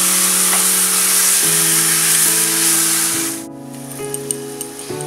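Skin-on chicken dropped into a dry, oil-free pan gives a steady loud hiss of sizzling for about three and a half seconds, then cuts off sharply, with sustained tonal notes running underneath throughout.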